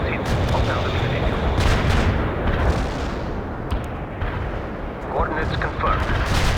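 An artillery barrage roars in the battle game World in Conflict, with heavy, rolling booms and overlapping blasts that continue through the clip while voices speak over the din.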